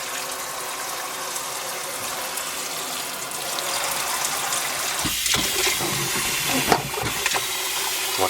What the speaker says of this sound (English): Alright, the water's coming hot now. Run it through the sprayer for a while.